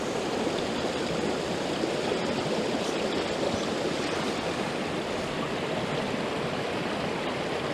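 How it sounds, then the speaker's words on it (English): A mountain stream rushes out of a tarn high in Snowdonia's Glyderau, giving a dense, steady close-up roar of pouring water with a deep low rumble and no break from start to end. "The water pours out of this tarn down to the bottom of the valley."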